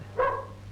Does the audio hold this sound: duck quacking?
no